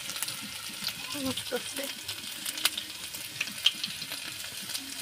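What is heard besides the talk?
ginger and garlic frying in hot oil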